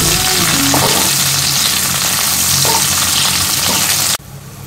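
Chopped onion, garlic, mustard seed and dried red chillies fry in hot oil for a dal tadka tempering, a loud steady sizzle with a few stirring scrapes, cutting off abruptly near the end.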